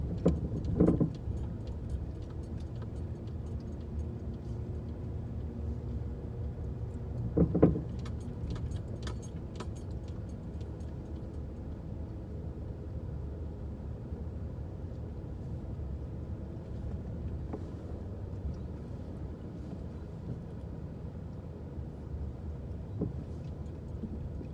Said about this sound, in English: you can hear my struts. I need new struts, or at least a ball joint.